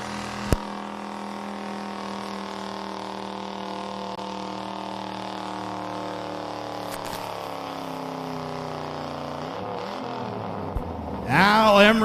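Brutus, a pulling truck at a truck pull event, runs with a steady loud engine drone whose pitch climbs and shifts through the run, a sharp bang near the start and a louder burst at the end.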